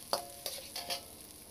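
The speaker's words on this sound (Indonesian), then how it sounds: "kemudian kita tumis irisan bawang merahnya. Kita tumis sampai harum, layu dan juga agak setengah kering ya" Sliced shallots sautéing in a little oil, a constant sizzle punctuated by three or four quick scraping stirs of a spatula in the pan, close and fairly loud, no voices.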